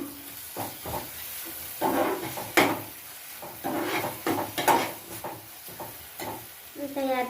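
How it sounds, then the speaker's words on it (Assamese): Hot oil sizzles and bubbles in a pan of tomatoes for an Assamese fish curry with mustard seeds and drumsticks, a steady crackling hiss broken by louder stirring scrapes and a few clinks of a utensil. "দেখিছেনে পুৰা এনেকৈ তেল বিৰিঙি উঠিছে।"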